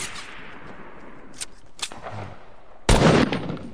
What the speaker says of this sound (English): Ooh, that's your shotgun,